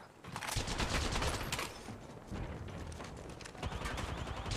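Rapid gunfire from weapons in the mobile game Apex Legends Mobile rattles loud and close in dense automatic bursts, with a brief lull before more firing.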